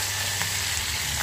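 Green chilies frying in a small wok packed with large chilies, a steady dense sizzle filling the whole moment without break, close and loud, with no voices over it.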